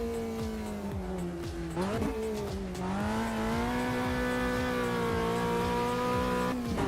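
Racing sim game engine noise: a continuous, close car engine drone that dips and climbs through gear changes, with rising and falling revs and a possible faint tire squeal, loud and unbroken throughout with no talk.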